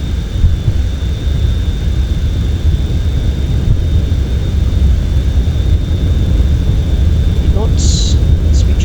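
Boeing 737-300/400 jet engines spool at takeoff thrust in a full-motion flight simulator, a loud continuous roar and low rumble with a steady whine, and brief voices and clicks near the end.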